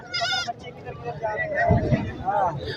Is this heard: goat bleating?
yes